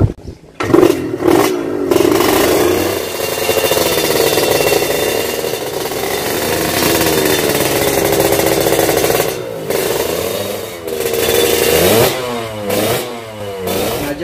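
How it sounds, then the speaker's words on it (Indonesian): A loud Kawasaki Ninja ZX sport motorcycle engine revs close by, surging and dropping in repeated bursts with rough, rattling idle between throttle blips, no voices. "Sengaja gue nggak geber-geber maksimal karena ini siang."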